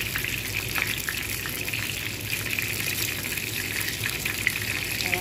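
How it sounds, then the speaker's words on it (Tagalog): Vegetable spring rolls (lumpiang gulay) fry in a shallow layer of oil, giving a steady, dense sizzle and crackle that holds evenly throughout, close and fairly loud with no talking. "Ayan, piniprito ko na."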